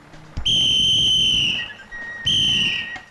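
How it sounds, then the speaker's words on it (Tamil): A shrill whistle blown by mouth in two sharp blasts, the first held over a second and the second shorter, loud and close with little else around it. "யாருக்கு விசில் அடிக்கிறீங்க"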